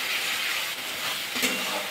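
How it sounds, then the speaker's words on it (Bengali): Spice masala being sautéed with a little water in a kadai for an egg curry, giving a steady close sizzle and bubbling with light stirring and no voices. "অল্প অল্প জল দিয়ে কষিয়ে নিচ্ছি।"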